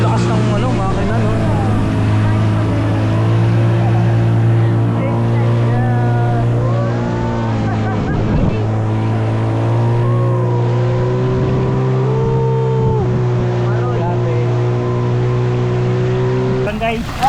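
A yacht's engine drones loudly and steadily throughout, a low constant hum with slight shifts in pitch, while people talk faintly over it.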